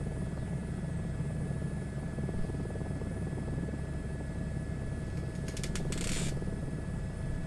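Helicopter engine and rotor in a flight simulator video game, a steady low drone running unbroken at even loudness, with a brief higher mechanical buzz near the end.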